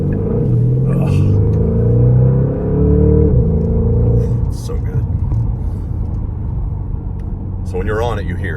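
A 2026 Porsche Panamera GTS under hard acceleration, a loud rumbling engine with rising and falling pitch and gear changes, easing off midway as it brakes and downshifts, while a person speaks briefly inside the cabin.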